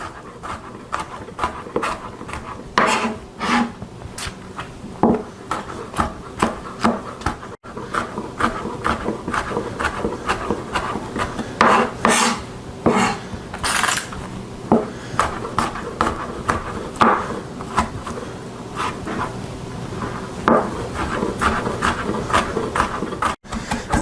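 Knife rough chopping seeded tomatoes on a cutting board, a quick run of sharp taps and knocks cutting first one way then crosswise, close and fairly loud, with faint kitchen noise between strokes.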